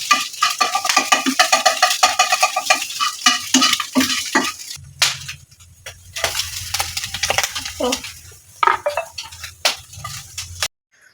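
Noodles cooking in a pan are stirred briskly, giving repeated close scraping and clinking strokes over a sizzle, with a short pause partway and a few sharper knocks toward the end.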